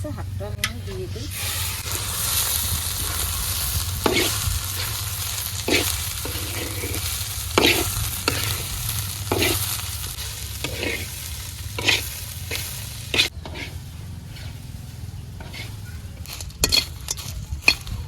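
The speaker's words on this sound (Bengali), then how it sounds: "কড়াইতে তেল দিয়ে দিলাম, শাকটু ভাজি করে নিলাম, পেঁয়াজ রসুন দিয়ে দিলাম" Leafy greens fry in oil with onion and garlic in a wok in a village kitchen, giving a steady hissing sizzle overlaid with repeated scraping spatula strokes at an uneven rhythm.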